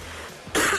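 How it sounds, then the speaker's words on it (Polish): A single harsh wet cough bursts out after a quiet moment, short and close, with a raspy, throaty texture. "Mokry kaszel najlepiej skrócić."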